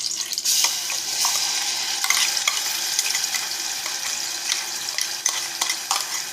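Ground masala spices sizzling in a hot frying pan for chhola bhatura, with steady stirring scrapes and crackling frying running throughout, close and loud, with no talk.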